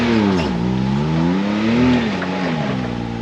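An off-road side-by-side engine revs hard on a wooded trail climb at Windrock, its pitch rising and dipping with throttle changes, loud and close throughout with no talk.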